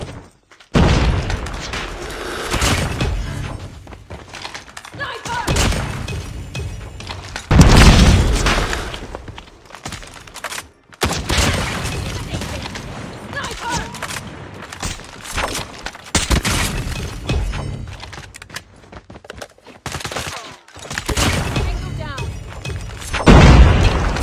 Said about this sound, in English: Enemy has dropped a bomb.